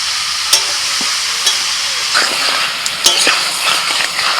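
Chicken frying in mustard oil in a kadai for a spiced chicken kosha, a steady close sizzle punctuated by sharp metal stirring scrapes and clinks.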